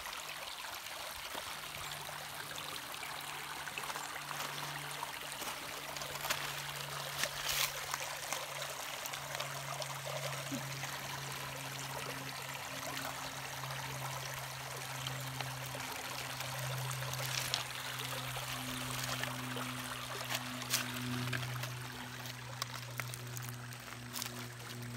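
Steady, gentle flow of a creek's running water fills the whole stretch, a soft continuous trickle and burble with a low hum droning underneath.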